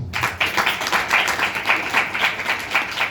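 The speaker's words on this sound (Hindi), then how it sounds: "ताली मारो।" A crowd at a church Sunday service claps together in a steady, rhythmic beat, many hands striking in unison at a moderate pace, fairly close and loud.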